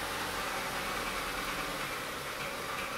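Honda Civic engine with a crank/no-start fault, apparently running rich and struggling to hold an idle, heard as a steady broadband rumble and hiss with no clear rhythm, close up and without speech.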